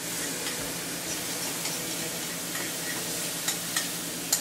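Waffle batter poured onto a hot, spray-greased griddle sizzles in a steady, close hiss, with a few small pops and clicks near the end and no talking.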